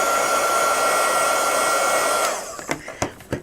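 A hair dryer blows steadily and loudly up close to dry metal dye on a ceramic tile, then switches off, leaving a few knocks and handling sounds.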